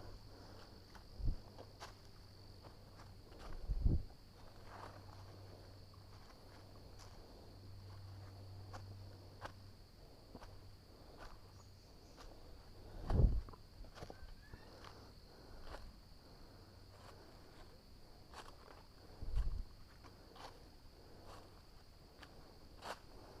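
Cicadas in a forest keep up a faint, steady high drone throughout, with a few soft footsteps and thuds nearby.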